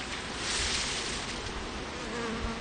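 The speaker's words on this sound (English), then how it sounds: "These bees are not happy." Agitated honey bees buzz in a dense, loud swarm while a beekeeper splits the colony outdoors in wind, a continuous close droning hum that never lets up.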